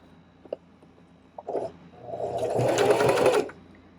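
A sewing machine stitches a fabric face mask, starting after a few light clicks and handling noises, then running in one steady burst of about a second and a half before stopping.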